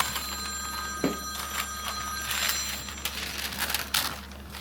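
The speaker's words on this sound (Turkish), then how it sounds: "Telefon çalıyor." A telephone bell rings in repeated bursts against a steady background hum, with a few clinks and knocks nearby.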